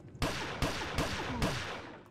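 Four loud, sharp gunshots in the video game 2Dark fire in quick succession, each followed by a brief echoing tail, with no talking.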